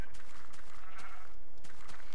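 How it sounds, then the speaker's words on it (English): Sheep bleating in the Minecraft video game, a run of short wavering bleats that repeat through two seconds and sound fairly close. "There's sheep everywhere."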